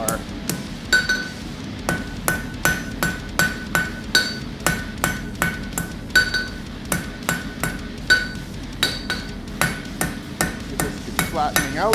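Steel road spike hammer forged on an anvil, steady rhythmic ringing blows about two per second, loud and close, with some strikes carrying a bright metallic ping.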